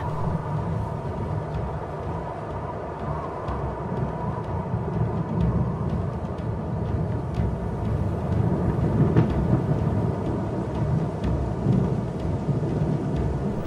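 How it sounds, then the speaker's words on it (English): Low rumbling thunder rolling on and off beneath a constant wash of rain, with scattered drips and crackles. "A storm approaches."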